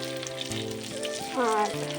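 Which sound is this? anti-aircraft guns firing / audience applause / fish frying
fish frying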